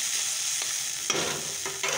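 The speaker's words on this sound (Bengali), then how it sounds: "আলু করলা ভাজা বসিয়েছি" Potato and bitter gourd fry in a pan, with a soft steady sizzle. A few sharper scrapes of stirring come near the end, quiet and close, with no talk.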